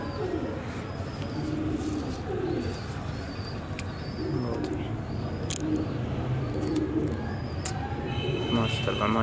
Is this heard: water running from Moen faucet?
no